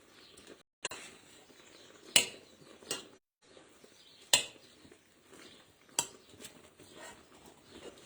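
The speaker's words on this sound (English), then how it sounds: "I'll just give that a stir, get a spoon." A metal spoon knocks and scrapes against a cooking pot while spinach for palak paneer is stirred, giving several sharp, separate clinks spread across the moments, with quiet rustling between them.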